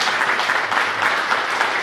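An audience at an education forum applauds, dense, steady clapping from many hands with no voice over it.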